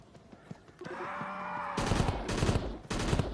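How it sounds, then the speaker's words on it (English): Gunfire from a burst-fire weapon in the VR jungle shooter Crashland, loud clustered bursts of rapid shots in three groups after a brief quieter stretch. "Burst fire, but we can switch it back to single shots."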